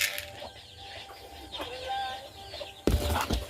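Chickens cluck and murmur nearby, with a brief flurry of wing flaps and a louder burst near the end.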